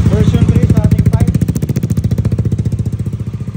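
Motorcycle engine fitted with a version 3 exhaust pipe runs close and loud, a steady rapid pulsing beat throughout with a slight rise in pace toward the end.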